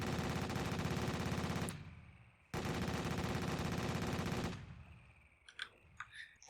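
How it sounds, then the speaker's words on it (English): A 20 mm anti-aircraft gun in Garry's Mod fires two long, rapid bursts, loud and steady, each stopping abruptly, with a brief pause between and a few faint clicks after the second burst. "That should be kind of neat for an anti-aircraft gun."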